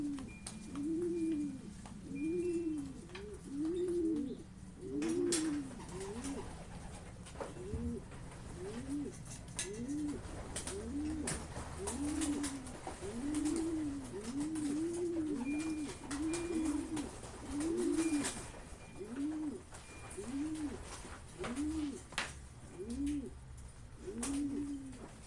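Racing pigeons coo in a loft, a close, repeated series of low rolling calls that keeps going steadily with short gaps, over faint background noise and no speech.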